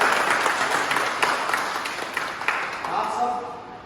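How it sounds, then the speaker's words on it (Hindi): Audience clapping in a hall after an address, a dense steady patter that stays fairly loud and eases slightly toward the end. "इसके लिए भी ताली बजा दिया जाए।"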